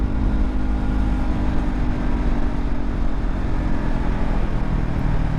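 Honda CB500F motorcycle engine running at steady load while being ridden, a continuous loud drone with wind rush and no change in pitch throughout.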